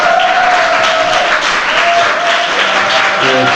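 A church congregation applauds young people newly baptized and admitted as catechumens, a steady wash of clapping filling the room, with a faint sustained tone underneath.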